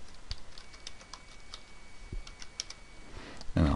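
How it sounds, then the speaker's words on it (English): Keys tapped on a computer keyboard while entering a name, heard as sparse, faint clicks scattered through quiet room noise, ending in a louder thump. "So we'll go ahead now and just type in, say, Tom Smith"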